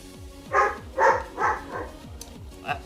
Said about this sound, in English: is my dog